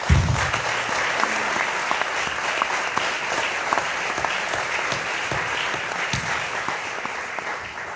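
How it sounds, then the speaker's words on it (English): A crowd gives a contestant a sustained round of applause, a dense, steady clapping that holds at an even loudness for the whole stretch with no talking over it. "Give him a round of applause, guys."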